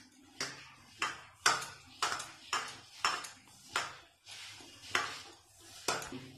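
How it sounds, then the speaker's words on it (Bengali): Dough for rasmalai worked in a bowl, with light rhythmic knocks and scrapes against the bowl about every half second, faint and close, no talking. "ভালো করে মেখে নেব।"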